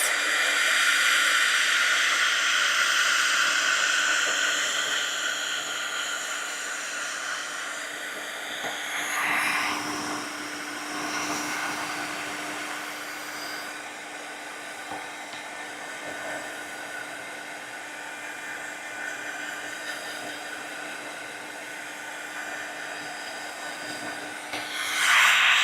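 A hair dryer blows steadily to speed-dry watercolor paper, a continuous close whooshing roar with a faint tonal whine that dips and shifts as the dryer moves around, then swells again at the end.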